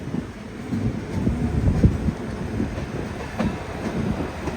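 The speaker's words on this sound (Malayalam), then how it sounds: "കോയമ്പത്തൂർ ജംഗ്ഷൻ റെയിൽവേ സ്റ്റേഷനിലേക്ക് ഇതാ നമ്മുടെ ട്രെയിൻ എത്തിക്കൊണ്ടിരിക്കുകയാണ്" A Mangaluru–Chennai Egmore Express pulls into Coimbatore Junction station, a steady rumble of rolling wheels and carriages with faint rhythmic clacks, continuous and fairly near, with no voices.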